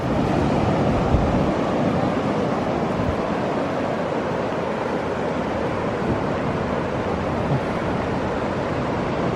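Pacific Ocean surf at a California beach rushes and washes in a constant loud roar, heavily mixed with wind buffeting the microphone, with no voices.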